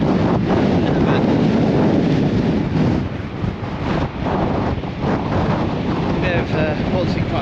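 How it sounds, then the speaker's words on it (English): Strong wind gusting along the Blackpool promenade in winter, a loud, continuous roar buffeting the microphone for the whole stretch, easing slightly for a moment midway before surging again. "that wind is blowing some in a bit"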